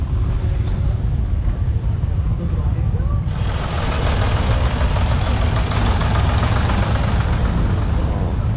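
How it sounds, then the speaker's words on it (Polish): An old tractor engine idles at a vintage tractor rally, a steady low rumble under crowd noise, with a broader, louder wash of outdoor noise joining partway through. "Jest retro traktor."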